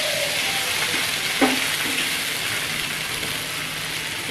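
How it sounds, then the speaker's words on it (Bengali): Paneer cubes are stirred in hot oil in a pan, with a steady, close crackling sizzle, a few scraping knocks from the spoon and no voices. "তো এবার পনিরটা একটুখানি এই তেলটার মধ্যে জাস্ট পনিরটা একটু নাড়িয়ে নেব"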